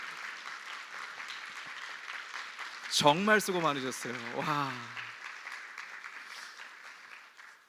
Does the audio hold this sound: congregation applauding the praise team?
yes